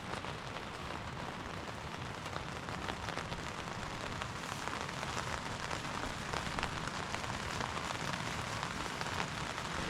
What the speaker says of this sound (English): I have never really gotten up to rain while I am hiking